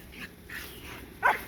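Playing dogs bark outdoors in a few short, faint yips, then one louder bark near the end, all within a second and a half.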